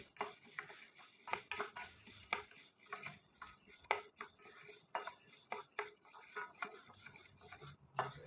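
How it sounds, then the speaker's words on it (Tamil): Black peppercorns dry-roasting in a kadai, stirred with a spatula: faint, irregular scraping and light metallic taps against the pan, with soft rattling of the corns, near and alone. "கடாயில் மிளகு சேர்த்து கருகாமல் நல்லா சூடு வரை வறுத்துக்கலாம்"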